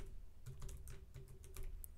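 Fingers type on a computer keyboard up close, a steady patter of quick, irregular key clicks with no talking.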